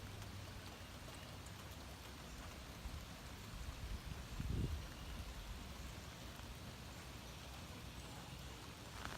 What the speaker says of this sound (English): If it doesn't rain any harder than this, I'll be good.